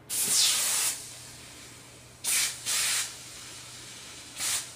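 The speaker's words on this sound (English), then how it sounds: "if you have wood stove, watch what happens when I apply liquid" Liquid sprayed onto hot wood stove glass flashes to vapor in loud, sharp hissing bursts, one long, then a pair, then a short final burst, separated by quiet gaps.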